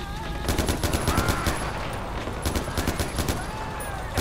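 Far Cry 4 gunfire in a burning building, heard as a few rapid, moderately loud bursts of shots in clusters, with a voice talking intermittently underneath.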